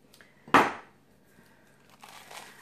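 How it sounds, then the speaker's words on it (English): Half a cup of real bacon pieces drops into a bowl of broccoli salad in one short crinkly, crunchy burst, close and fairly loud, followed by softer rustling. "this is a ½ cup of bacon going in"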